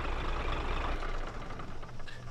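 A vehicle engine idles in the video game Arma 3, giving a steady low rumble that is loud and close for the first second, then drops back and keeps running more quietly, with no talk.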